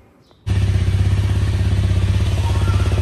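A Honda motorcycle engine fires up abruptly and settles into a loud, close idle with a fast, steady putter.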